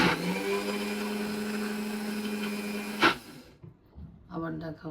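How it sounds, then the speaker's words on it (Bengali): An electric blender whirs loudly and steadily while blending milk cream skimmed from pure milk for homemade ghee, then cuts off abruptly, leaving quiet kitchen sounds and brief voice-like bursts. "এই যে সর ব্লেন্ড করা হচ্ছে ঘি বানানোর জন্য"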